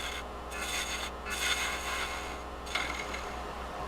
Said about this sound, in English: So I'll just use a 1/2-inch bowl gouge, and we'll just clean that up real quick.